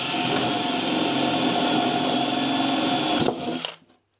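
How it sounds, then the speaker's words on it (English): A power drill whines steadily and loudly up close for a few seconds, then winds down and stops. "going to drill a hole"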